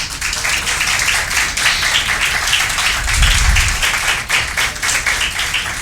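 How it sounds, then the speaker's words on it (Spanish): Church congregation applauding the Lord during a Christmas worship service, a steady wash of many hands clapping throughout, with a low rumble swelling near the middle. "Dele un aplauso al Señor."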